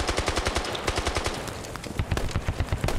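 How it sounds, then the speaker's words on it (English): An AK rifle in the Squad video game fires on full auto, a continuous stream of sharp, rapid gunshots with a fast, even rhythm and loud, punchy reports for about three seconds, with no voices over it. "That's an AK."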